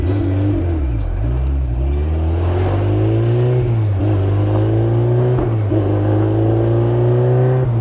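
A fully built Honda S2000 with a swapped K24 engine accelerates hard, its loud engine note climbing through the revs in repeated pulls with short dips at shifts, heard close from inside the car.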